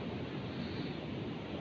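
Surf rolling in at Karapyak beach in Pangandaran, heard as a steady, soft, broadband wash of waves with some wind, constant and unbroken, with no voices.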